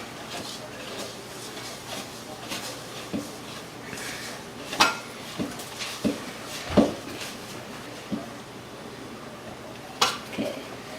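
Ginger snap dough being mixed by hand in a bowl, giving scattered clinks and scrapes of utensil on the bowl, with several louder knocks standing out over a steady low background.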